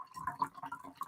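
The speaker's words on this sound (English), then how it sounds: "I love when you just hear the pouring of the alcohol." Alcohol trickles and splashes as it is poured, a soft, close liquid gurgle lasting about a second, faint and unbroken, with no talking.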